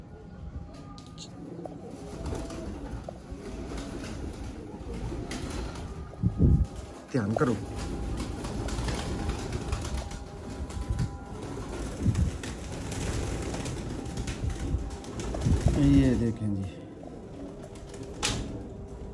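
Old Sialkoti pigeons coo among a breeder's flock, their low burbling calls running steadily beneath a man's nearby speech, with a few sharper knocks and rustles scattered through.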